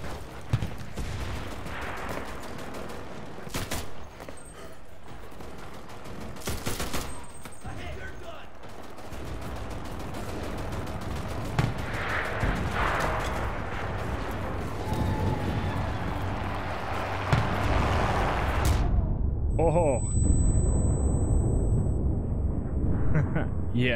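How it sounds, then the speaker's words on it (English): Machine gun fire and explosions in the shooter game Enlisted, with bursts of automatic fire and heavy blasts mixed into constant battle noise, while players talk over the action throughout. "everybody on the enemy team was using the MGs"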